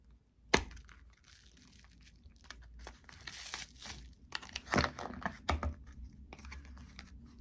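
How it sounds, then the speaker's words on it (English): Cardboard and plastic packaging of a Vifly Strobe drone light box crinkle, tear and scrape as it is opened, with a sharp snap at the start and bursts of rustling and cracking, close up with no talk. "let's open the box up and see what we've got in there"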